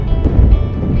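Strong wind buffets the microphone of a rider on a Honda CB500X motorcycle touring northern Luzon, a loud, dense, low roar with gusty swells throughout.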